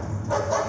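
A dog gives one short, close bark, a quick loud burst with no voices over it.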